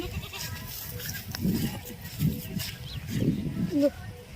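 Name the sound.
goat bleating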